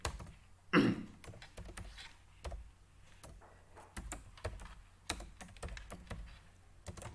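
Java code is typed on a computer keyboard in sparse, irregular clicks and taps, close but quiet, with one heavier thump early on and no speech.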